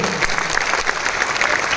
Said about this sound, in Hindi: अपने लिए ही एक बार जोरदार तालियां बजा दीजिए आप लोग